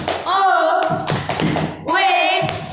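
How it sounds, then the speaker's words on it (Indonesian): A group claps hands in a short burst of rhythmic slaps, framed by loud chanted voices before and after in a school-style group activity. "2, 3, mulai. Tepuk tangan."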